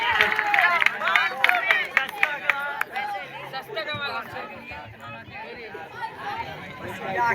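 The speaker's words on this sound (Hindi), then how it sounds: "खुद जोरदार ताली।" Children and guests at a school farewell ceremony clap loudly in quick sharp bursts at first, then fade into lively crowd chatter and hubbub.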